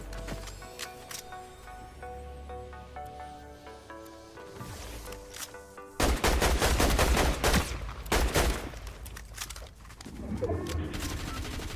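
Gunfire in a shooter video game, first a run of sharp scattered shots, then a loud burst of heavy shotgun blasts and rapid fire close by, with no talk.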